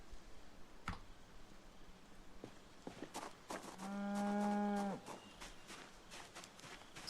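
A single cow moos in a video game, a clear sustained low call of about a second, heard over quiet clicking and soft background ambience.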